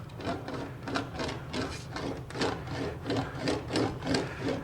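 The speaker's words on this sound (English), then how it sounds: "And I'm going to wheel over this entire piece now." English wheel rolling back and forth over a sheet metal motorcycle fuel tank panel, a steady rhythmic rasping rub repeating about twice a second, close and even, with no voices.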